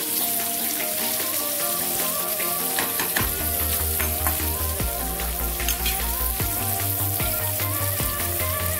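Paneer cubes shallow fry in oil in a pan, a loud continuous sizzle with scattered crackles and some clinks of a utensil, and no voices.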